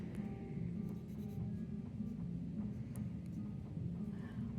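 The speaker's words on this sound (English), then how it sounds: "So with my pencil, I'm going to draw a square" A pencil drawing a square on paper, a steady close scratchy graphite scraping that runs continuously with slight strokes and pauses, quiet and alone.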